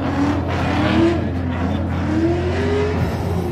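Corvette drift car, apparently showroom-fresh, engine holding steady high revs on a drift track at an Indy competition round, a loud continuous drone with rising and falling pitch sweeps.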